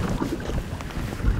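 Strong wind gusts rush steadily across open water around a fishing boat out for pike and zander, a continuous blustery roar with microphone buffeting and no speech.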